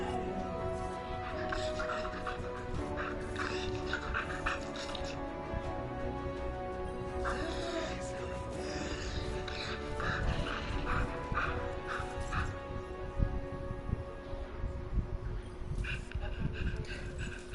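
A dog barks in the Destiny video game, heard amid dense game music and effects that continue throughout, with speech mixed in.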